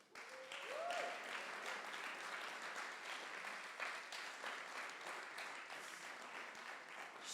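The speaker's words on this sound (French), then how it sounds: "je pense que c'est le moment de les applaudir, non ?" An audience at a data science demo day in Paris applauds with steady, sustained clapping that fills the room, moderately loud and continuous, and a brief whistle rises near the start.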